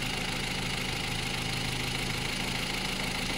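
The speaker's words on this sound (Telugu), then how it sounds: "చూసారు కదా ఎంత సైలెంట్గా ఉంది ఇంజన్ బీడింగ్ అనేది." A Ford Figo 1.2 petrol engine idles with the hood open, a smooth, even hum with a low steady pulse, close and continuous with no voices.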